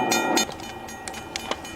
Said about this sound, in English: we hear the railroad crossing alarming